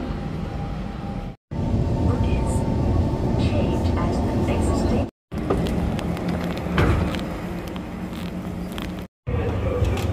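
Subway train in Singapore: a steady, loud low rumble of a moving metro car with rail noise, heard from inside, with brief cuts in the sound.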